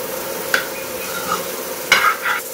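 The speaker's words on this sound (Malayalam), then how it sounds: "ഒരു 2-3 മിനിറ്റ് നമുക്ക് ഇതുപോലെ ഒന്ന് ഇളക്കി കൊടുക്കണം" Chicken curry stirred in a pan, with a soft sizzle underneath and a few sharp scrapes and clinks of the spoon against the metal, close and without talk.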